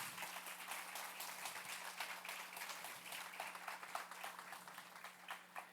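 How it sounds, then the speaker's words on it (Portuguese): A church congregation claps for Jesus in dense, sustained applause, many hands at once with a steady low hum beneath. "Bora aplaudir Jesus."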